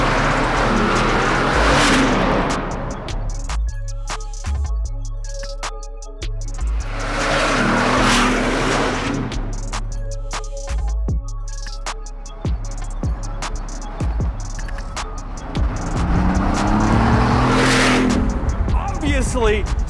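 A Bugatti Veyron with a titanium exhaust revs and roars loudly in repeated bursts, with a harsh, crackling exhaust note rising and falling and people talking over it.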